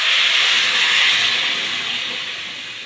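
Hot water poured from a vessel into a simmering rohu fish and maan kachu (giant taro) curry, a steady loud hissing, steaming rush that fades slightly toward the end, with no talking.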